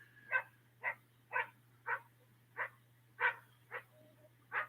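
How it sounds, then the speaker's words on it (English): A big dog gives small, light barks, about nine of them evenly spaced and fairly close, over a low steady hum with no talking. "She's a big dog. She's got a little bark. But it's an annoying bark."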